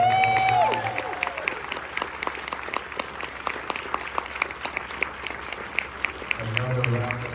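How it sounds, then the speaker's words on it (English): Audience at a film screening Q&A applauding the filmmakers, a sustained wash of dense clapping from a sizable crowd, with a voice speaking over the edges at the start and end. "another round of applause?"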